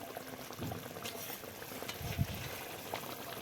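Sarpunti fish simmering in broth over medium heat, a soft continuous bubbling with occasional small pops, close and fairly quiet, no talking.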